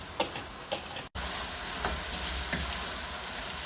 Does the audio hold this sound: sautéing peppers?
yes